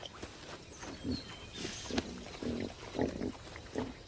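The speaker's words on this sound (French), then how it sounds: "Il s'agit du plus petit cochon en Inde." Pygmy hog grunts in short, low bursts, repeating every half second or so amid rustling ground noise, close by and fairly soft.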